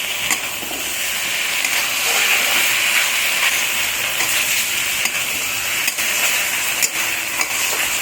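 Spices, salt, chili powder and tomato ketchup are stirred in a hot frying pan, giving a steady loud sizzle and hiss with repeated scraping and clinking of the spatula against the pan.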